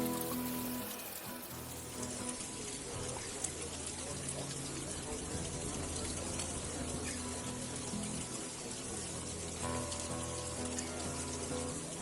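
Steady splashing of the fountains in Piazza Navona, Rome, fills the space as a continuous wash of falling water, with a murmur of crowd voices mixed underneath.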